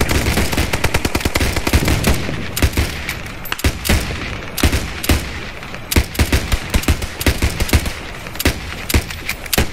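Rapid automatic gunfire during a Post Scriptum infantry battle drill, dense and continuous for about ten seconds, with overlapping bursts and sharp individual shots that sound close and loud.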